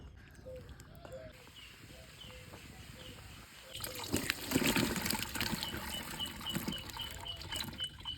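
Water pours and gushes into a pot for boiling potatoes for village-style crispy aloo chips, starting faint and then rising into a close, louder trickling rush partway through.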